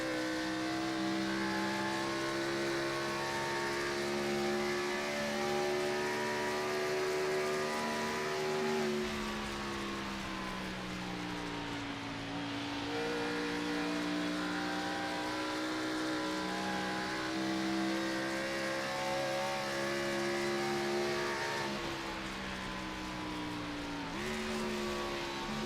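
Race car engines in a racing video game, an All-American Cup Series race at Pennsylvania, drone loudly and steadily throughout, with pitch sagging and climbing again at several downshifts.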